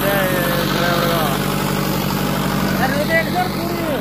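A Farmtrac 6055 Turbo tractor engine runs steadily and close, a constant low rumble throughout with faint voices and background noise over it.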